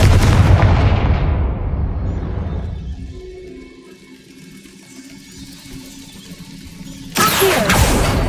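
A Confringo fire spell from Hogwarts Legacy lands with a loud, booming blast that fades over a few seconds into a low rumble, then a second sharp burst hits near the end.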